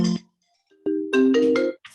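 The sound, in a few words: telephone ringing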